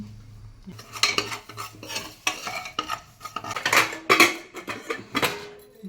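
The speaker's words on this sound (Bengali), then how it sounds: "মুড়ি ভাজা হচ্ছে প্রেসার কুকারে" Puffed rice roasting in a pressure cooker, tossed and stirred with repeated metallic scraping and rattling of grains against the pot, fairly close and steady over several seconds with no talk.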